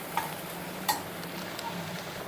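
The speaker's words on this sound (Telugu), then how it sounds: "వేసిన తర్వాత ఇలా బాగా మంచిగా కలుపుకోవాలండి." Masala is stirred into vegetable pieces in a pan, a faint sizzle under a few soft scraping stirs and light clicks, close and quiet with no talking.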